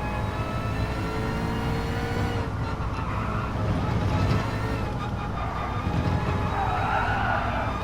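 Race car tires sliding and scrubbing in a sim racing game, a steady engine drone with a rising squeal of lost grip over the last seconds, loud and continuous with no talk.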